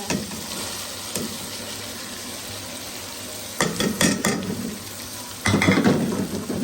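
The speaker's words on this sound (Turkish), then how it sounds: "Evet şimdi domateslerimi direkt atabilirim arkadaşlar hiç beklemeden." Tomatoes go straight into a pan of sizzling spinach and meat, a steady close sizzle with stirring scrapes that bursts louder at two points as the pieces hit the hot pan, no voices.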